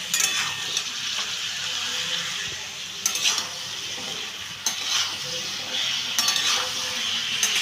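Eggplant and potato fry in a pan with a steady sizzle while a spatula stirs and scrapes against the metal in small bursts every second or so, close and free of talk.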